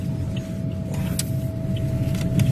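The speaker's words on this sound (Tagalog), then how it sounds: "Dyan maubos oras ko sa traffic eh." Steady road traffic rumbles along a busy Cebu city street, cars and buses passing in a continuous low drone with a faint tonal hum and occasional brief hisses, no talk.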